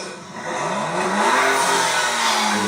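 A Maserati MC20 engine revs up hard and holds a loud, rising roar for a couple of seconds, up close and without any talking.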